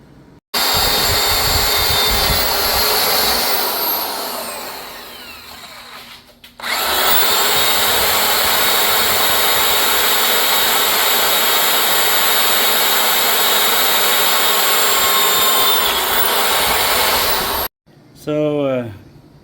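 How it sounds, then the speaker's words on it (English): A loud power tool cuts a piece of metal for a Radio Flyer wagon bracket, whining steadily close by, easing off and dropping out briefly, then resuming at full strength before stopping. "cut a piece of metal off"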